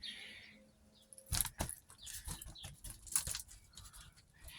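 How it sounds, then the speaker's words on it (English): Cats moving across the roof of a greenhouse overhead, where they lie on screens set in the ceiling: irregular close thumps, scrabbling and light patter in uneven bursts, with no talking. "the noise you hear above me is the cats"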